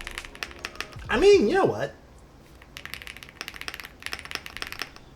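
Clicky typing on a stock RO75 75% mechanical keyboard fitted with PBT keycaps, a steady run of soft, muffled keystrokes near the mic, broken early by a short burst of talk.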